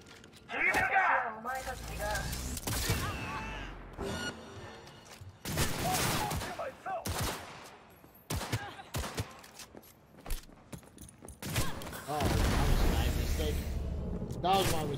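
Gunfire in the video game Cyberpunk 2077 comes as sharp bursts of cracking shots and rapid volleys mixed with game effects, while a person talks intermittently over the action.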